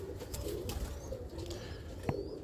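Pigeons being fed coo in low, repeated murmurs close by, layered over soft shuffling and faint background noise, with a brief sharp tap near the end.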